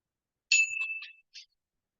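A bell rings once with a bright metallic ding during a cardio workout, ringing out for under a second, followed by a fainter second tap, alone in silence.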